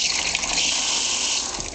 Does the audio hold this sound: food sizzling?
no